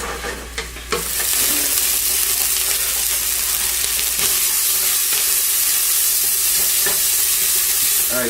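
Vegetables for a tomato sauce sauté in a pan, a steady broadband sizzle running throughout after a brief quieter start, with occasional soft stirring scrapes.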